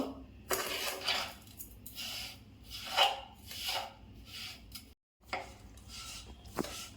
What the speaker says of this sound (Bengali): আমি নাড়বো যতক্ষণ পর্যন্ত ওটা স্টিকি না হবে না